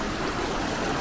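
A mountain stream flows steadily at a trail campsite along the Pacific Crest Trail, a close, continuous broadband rush of running water with no voices over it.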